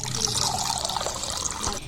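Drinking water is poured into a glass at home, a close, steady trickling and splashing stream that fills the short moment without talk.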